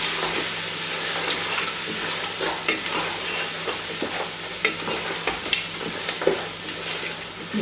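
Ground spices (coriander powder, turmeric, cumin powder, salt and red chilli) being stirred in a frying pan for masoor dal gosht, with steady close sizzling and a series of scraping stirs throughout.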